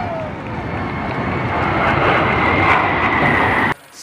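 Loud roar of a formation of 14 aircraft passing overhead at an Indonesian Independence Day flypast, a broad rushing drone that swells and then cuts off abruptly at the end.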